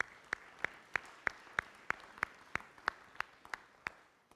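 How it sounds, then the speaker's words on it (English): Applause at a Rotary club meeting for its sponsor comes through as evenly spaced, crisp claps at a steady pace, thin and moderately distant. "We give Max a round of applause."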